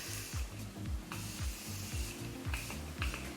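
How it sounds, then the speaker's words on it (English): Morphe setting spray misted onto a face in a few quick, soft hissing bursts over steady background noise. "I'm gonna spray down my face really quick with my Morphe setting spray"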